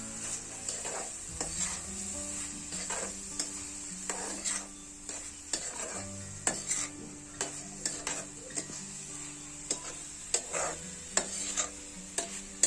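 Prawn curry being stirred in a pan for a Malvani-style dish, with steady scraping and clinking of a spoon against the pan and irregular knocks over a soft sizzle, close and moderately quiet, with no talking.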